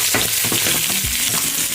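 Garlic, ginger and two small onions fry in a pan with a loud, close, continuous sizzle broken by repeated stirring scrapes, and no one speaks.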